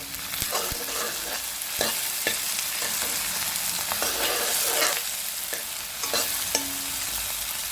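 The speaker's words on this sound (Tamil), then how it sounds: "இது கொஞ்சம் நல்லா பொன்னிறமாக வதங்கட்டும்" Onion and garlic cloves sauté in a pan for a bitter gourd curry, giving a steady, close crackling sizzle broken by scattered clicks and scrapes of stirring throughout.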